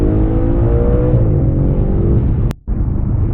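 A 2014 Audi RS5 engine roaring loudly and close, a steady high-rev drone that dips briefly as if between shifts before picking back up.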